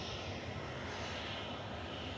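A Virgin airliner taxis in at Manchester Airport, its engine noise a faint, steady distant rumble and hiss that holds evenly throughout with no voices.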